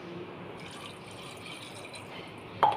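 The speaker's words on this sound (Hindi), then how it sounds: "पानी चाहिए इसको इसलिए आधा गिलास और डालेगा" About half a glass of water pours steadily from a glass into a mixture being prepared, a continuous close splashing flow that ends with a brief louder splash.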